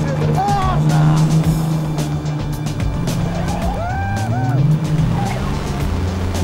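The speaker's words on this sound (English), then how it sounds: "So, foot down, no brakes, throw it sideways and try not to hit the wall." A WRC rally car slides sideways at speed during a New Zealand shakedown, engine roaring loud and close while tires squeal and skid in rising and falling howls through the corner.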